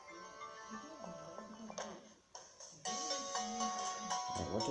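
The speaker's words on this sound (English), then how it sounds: "what does my phone want from me?" A phone ringtone chimes out from a handset during a Pokemon Shield play session, a bright repeating melodic tone that rises in level and keeps sounding steadily over low background noise.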